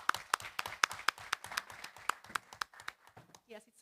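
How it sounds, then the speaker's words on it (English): Small group clapping hands in applause after a presentation, a steady patter of sharp claps close by that thins out and fades toward the end. "Yeah, let's clap."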